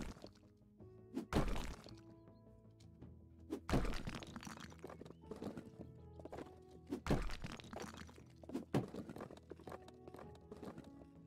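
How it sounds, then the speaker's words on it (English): Heavy hammer-like blows smash a wall in the House Flipper video game, a few loud thuds spaced a couple of seconds apart, each followed by crumbling and clattering debris. "Have to fully destroy the wall now."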